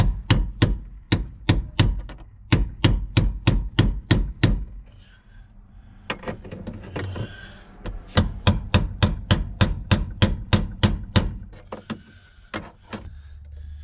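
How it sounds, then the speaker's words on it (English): Rapid bursts of sharp metallic hammer strikes on a chisel during fuel pump replacement on a 2006 Nissan Altima, loud and close in evenly spaced volleys of about eight to ten blows with a brief pause of shuffling between. "Now I'm just chiseling it."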